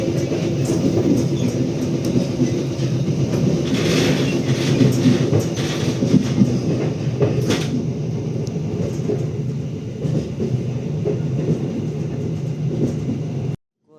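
The Progo passenger train rumbles past up close at Prupuk station, a loud, steady roar with rhythmic clatter that cuts off abruptly at the end.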